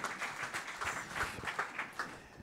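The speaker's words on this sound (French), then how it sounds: "Rémi Branet, on vous applaudit." Scattered audience clapping at an awards ceremony, individual claps distinct and uneven rather than a dense roar, suggesting a modest crowd applauding in a hall.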